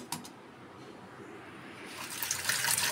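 Starchy water drained off boiled rice, a steady pouring splash that swells louder and more gushing toward the end, heard alone in a home kitchen.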